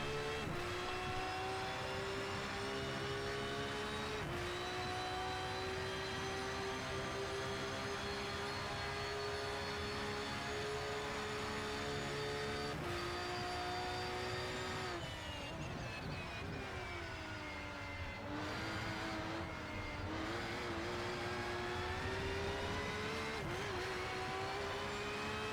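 Race car engines from the Rennsport racing video game at Road Atlanta, a loud continuous high-pitched whine holding steady with brief dips and rises as gears shift, including a pass of a lapped car.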